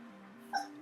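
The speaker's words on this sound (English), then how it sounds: "And that's our dog having a dream back there." A dog dreaming in the background gives a brief, faint high whimper, a single soft yip against a quiet room.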